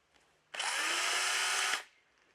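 Stihl E140 electric chainsaw revs up from quiet, runs at a steady high-pitched whine for just over a second, then winds down; close and loud, with no talking.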